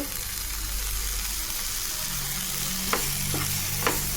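Potato samosa filling is stirred in a frying pan, with a steady close sizzle and a few sharp scrapes of the utensil near the end.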